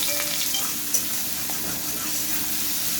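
Onions sizzle and fry in hot oil with nigella seeds in a pan, stirred with a few scraping strokes. The steady crackling hiss stays close and continuous throughout, with no talking.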